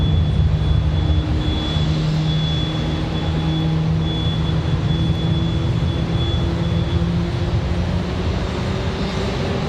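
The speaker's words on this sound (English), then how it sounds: "Let's see if we get a smoky start out of the A320." Frontier Airbus A320 jet engines spool up at the airport, a steady loud roar with a sustained high whine running throughout.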